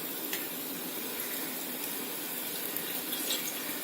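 Water is poured into a pan of cooking spiny gourd, a steady soft splashing hiss that runs continuously and fairly quietly without any voices.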